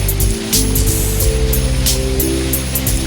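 Waterfalls splash into tropical rock pools, a continuous loud rushing wash of falling water with steady low rumble and scattered bright splashes throughout.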